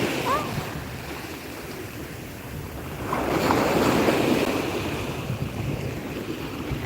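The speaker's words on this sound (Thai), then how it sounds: "มาฟังเสียงคลื่นทะเลกัน" Ocean surf rolls onto a German shore, a wave building and breaking near the middle, with wind buffeting the microphone and a faint voice underneath.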